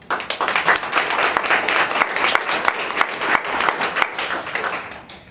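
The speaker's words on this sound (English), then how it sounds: "You don't have to clap for everyone." A large audience at a creativity expo claps loudly and continuously, dense rapid hand claps close and full for several seconds with no speech over them.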